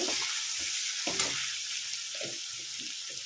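Oil and spices sizzle steadily in a pan after turmeric powder goes in for a Bengali aloo phoolkopir dalna, a constant bright hiss with soft stirring scrapes and taps throughout.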